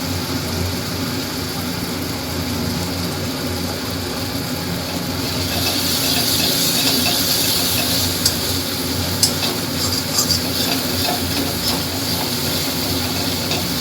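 Turmeric, a pinch of sugar and spices fry in hot oil for a Tangra fish curry, a steady broadband sizzle that holds throughout and grows brighter and louder midway, with a few sharp ticks and spatters late on.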